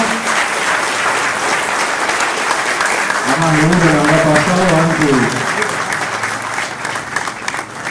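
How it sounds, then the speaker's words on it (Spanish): An audience applauds steadily at an award presentation during a regional museum's 30th anniversary event, loud continuous clapping that carries on while someone speaks over it partway through. "Primeramente para el señor Luna, fuerte el aplauso, el reconocimiento."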